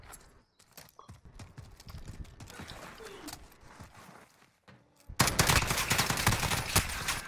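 An automatic weapon fires in Call of Duty: Modern Warfare, with scattered quieter shots and clatter at first, then a loud, sustained rapid burst near the end, while people talk.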